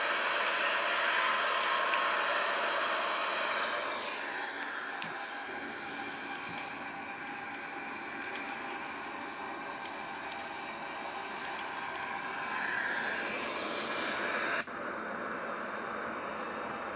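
Boeing 737-800 jet engines in the X-Plane 11 simulator give a steady, broad whine and roar, holding even before a brief shift near the end.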